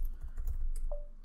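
Computer keyboard keys clatter in a quick uneven burst of close clicks as a GPG delete keys command is typed, with a brief faint tone near the end.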